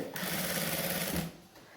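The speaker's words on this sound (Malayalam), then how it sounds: "എന്നിട്ട് പ്രഷർ താഴ്ത്തി വീണ്ടും നമ്മളുടെ ആ തയ്യൽ തുമ്പ് ഫുള്ളായിട്ട് നമ്മളൊന്ന് അടിച്ചെടുക്കുക" A sewing machine stitches the edge of a V-neck churidar collar at a steady moderate speed, a continuous close whirring hum that stops abruptly near the end.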